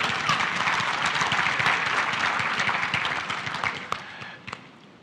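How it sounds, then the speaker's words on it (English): Audience applause at a leadership conference welcoming a senator, a dense wash of many hands clapping that fades and thins toward the end, with a few last scattered claps. "You're allowed to applaud"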